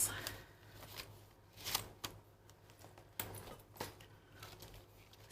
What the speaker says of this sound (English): Go into my wallet to get my envelopes